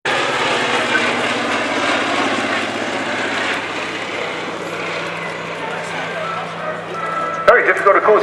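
A folding-wing naval aircraft flies past at the Southport Airshow 2016, its propeller engine droning steadily and loudly throughout while a commentator speaks over it.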